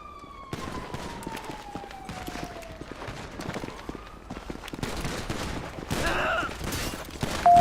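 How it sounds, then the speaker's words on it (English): Gunfire in GTA 5 with the LSPDFR police mod, scattered shots cracking at middle distance over a rising siren and street commotion, growing louder toward the end. "Who's still shooting?"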